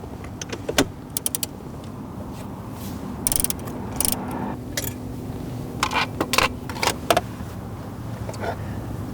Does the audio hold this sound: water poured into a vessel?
no